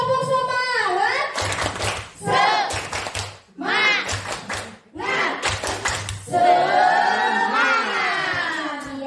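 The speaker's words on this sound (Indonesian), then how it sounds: "Tepuk semangat." Group of people doing a rhythmic Indonesian spirit clap, bursts of sharp unison claps alternating with shouted voices and chanting, loud and close, with talking between the clapping patterns.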